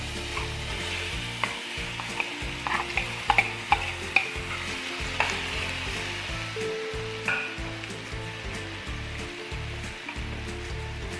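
Pieces of two medium-sized plantain bananas, each cut into four, fry in melted ghee, a constant close sizzle broken by repeated clinks and scrapes of a spoon stirring the pan, with no voices.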